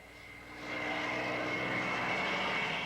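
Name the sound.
Japanese Zero fighter plane flying overhead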